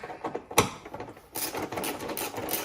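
Bolts being unscrewed with a T25 driver while fitting an APR intake filter on a 2.9T/3.0T/4.0T SUV, close clicking ratchet-like turns and a sharp knock, then a denser burst of rapid mechanical ticking.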